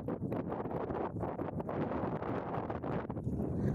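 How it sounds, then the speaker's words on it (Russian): Strong wind gusts buffet the microphone outdoors, a loud continuous roaring rumble with fluctuating bursts of rushing air and no other clear sounds. "Ветер здесь, конечно, вообще нехилый. Нас прям сдувает."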